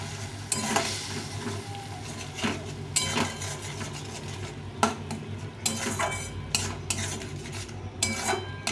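Cumin paste and ground spices fry in a pan for street-style ghugni, a steady sizzle with repeated metal spatula scrapes and clinks against the pan as it is stirred, close and alone.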